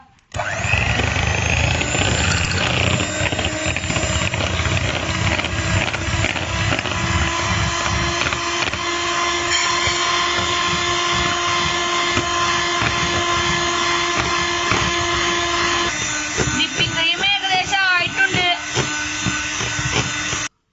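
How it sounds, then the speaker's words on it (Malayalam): Electric mixer whipping cream for a Black Forest cake, a steady motor whir running throughout with a slight pitch shift near the end, close and fairly loud. "കേക്കൊക്കെ ആവശ്യമുള്ള വിപ്പിംഗ് ക്രീം ഒന്ന് ബീറ്റ് ചെയ്തെടുക്കാം"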